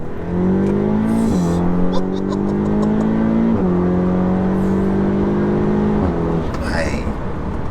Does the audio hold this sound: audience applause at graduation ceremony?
no